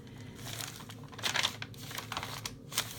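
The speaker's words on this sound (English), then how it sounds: "I have to have my tracing paper because I just love that crunchy sound" Sheets of crunchy tracing paper handled up close, with crisp crinkling and rustling bursts over a quiet low hum.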